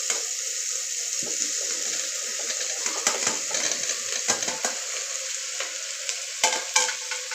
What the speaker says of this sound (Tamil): இப்போ பார்த்தா நம்ம கட் பண்ணி வச்சுருக்கிற காளானை போட்டுக்கிறோம்